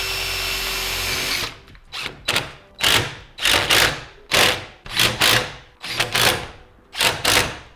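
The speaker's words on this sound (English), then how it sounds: "I'm going to use a self-tapping screw to make sure I just keep it on straight." Power drill driving self-tapping screws into the bottom retainer of a Wayne Dalton 9100 garage door, a steady noise giving way to about nine loud, close whirring bursts in an even rhythm with short pauses between.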